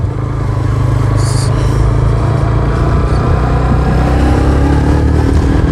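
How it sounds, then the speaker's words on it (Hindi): A Honda CB150F motorcycle is being ridden, and its engine drones loud and close alongside heavy wind rush. The sound stays steady and continuous throughout, with no speech. "आज इसकी राइड लेने जा रहे हैं CB 150 की।"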